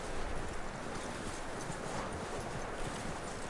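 Horse hooves clip-clop steadily in a western video game, a continuous dense patter of hoofbeats under a broad noisy ambience.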